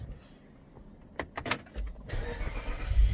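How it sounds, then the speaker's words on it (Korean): Renault Samsung All New SM7 engine starting by smart button inside the cabin: a few sharp clicks and whirs, then the engine catches and settles into a low, steady idle rumble. "스마트 버튼 자 시동을 걸었습니다 시동 걸은 상태고요"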